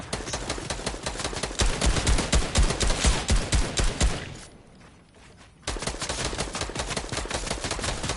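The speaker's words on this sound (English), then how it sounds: "they're both shooting at me" Rapid Fortnite gunfire comes in quick, loud, evenly spaced bursts, then a short pause near the middle before the shooting resumes just as fast.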